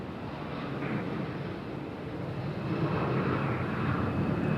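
A passenger jet departing Raleigh Durham airport gives a steady, distant broadband roar that swells slightly toward the end, with no voices over it.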